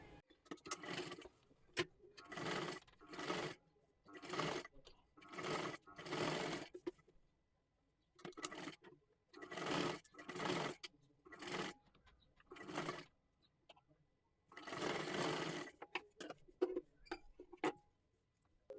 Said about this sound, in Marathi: इथे गळ्याला शिलाई मारून घ्यायची आहे